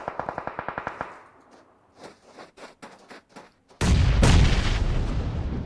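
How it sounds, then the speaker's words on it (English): Grenades exploding in a battle royale game: a quick burst of rapid gunfire and scattered distant pops, then a sudden loud, close blast that roars on to the end. "nades are getting thrown"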